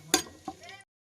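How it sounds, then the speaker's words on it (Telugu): Pulao whole spices with ginger garlic paste fry in a pan, a close scraping stir and soft sizzle in short bursts that cut off abruptly. "ఇది కొంచెం 1 నిమిషం ఫ్రై అయిన తర్వాత అల్లం వెల్లుల్లి పేస్ట్ అవన్నీ వేసేసుకున్నామండి"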